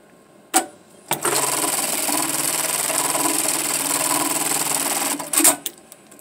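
An Allen JACK tacker industrial sewing machine stitches a box X pattern into 1-inch webbing with size 92 thread, running as a steady loud mechanical whir for about four seconds between sharp clicks at start and finish.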